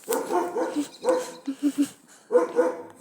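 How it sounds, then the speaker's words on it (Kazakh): A dog barks and yips in close, loud bursts, several quick barks clustered together, pausing briefly and then barking again, inside a dark house. "Үрілдеп жатыр."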